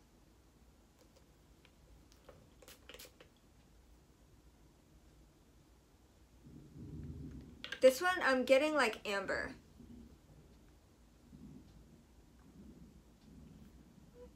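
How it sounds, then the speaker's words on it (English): Thunder from a storm outside rumbles low and distant through a room, swelling for several seconds while someone talks over it. "I think that it's thundering out there if you hear that."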